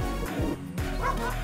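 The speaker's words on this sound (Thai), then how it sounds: "เสียงหมาเห่านะฮะต้อนรับเราเลย" A dog barks a few times on a quiet rural lane on Koh Kret island, short yipping barks at a moderate distance mixed with wind and a voice.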